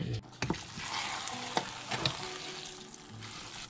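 Glutinous rice cooking in coconut oil left over from making latik, with steady frying sizzle and intermittent stirring scrapes and knocks of a utensil in the pan, close by and without speech.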